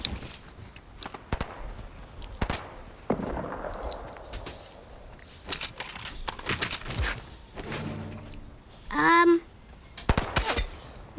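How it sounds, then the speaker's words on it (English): Gunfire in the Fortnite video game, including SMG and hunting rifle shots, comes as several sharp cracks and bursts scattered through the stretch amid footsteps and game effects. "Now who's shooting at me?"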